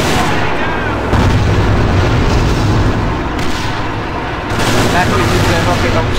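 Dense, continuous booming rocket launcher blasts and heavy rumbling in the game Alliance of Valiant Arms during an esports grand final, loud and chaotic, with voices faintly mixed in.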